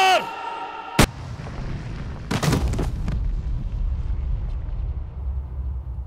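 Gunfire in a dubbed South Indian action movie: a sharp single crack, then a heavier booming burst followed by a rumbling tail and a sustained low roar, with no speech over it.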